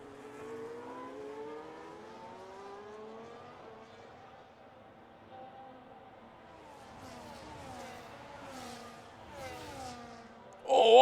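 Race car engines in a Hungary round of a racing video game, a steady layered drone of several cars with rising and falling pitch sweeps, moderately loud throughout, ending in a sudden louder burst.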